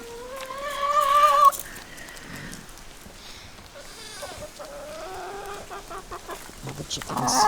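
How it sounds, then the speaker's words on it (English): Chickens cluck near a goat and a peacock on a farm, steady close clucking with a louder burst at the start, a voice talking faintly underneath. "All the chickens."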